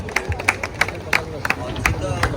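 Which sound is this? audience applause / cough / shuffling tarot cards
audience applause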